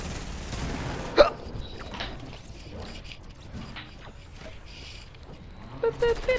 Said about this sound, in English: Okay, fucking hiccups.